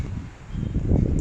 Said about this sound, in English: the wind still so strong and very dusty actually